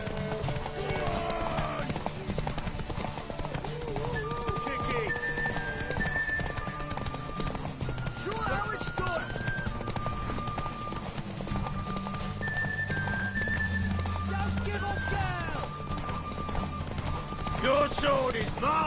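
Horse hooves clopping along with a whinny in The Witcher video game, under dense game music and voices talking throughout.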